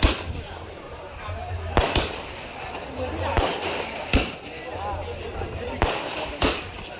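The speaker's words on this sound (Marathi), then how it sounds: "मान्यवर आले त्यांच्यासाठी फटाके वाजत आहेत" Firecrackers set off to welcome guests at a semi-final cricket match, sharp loud bangs repeating every second or so over a steady crowd murmur, fairly close.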